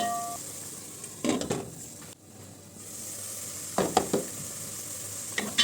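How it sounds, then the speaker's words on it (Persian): Finely diced onion sizzles steadily in a hot pot, with a few louder bursts of stirring scraping through the crackle and a brief lull midway. "یک عدد پیاز متوسط رو کاملا ریز نگینی سرخ میکنیم، تفت میدیم"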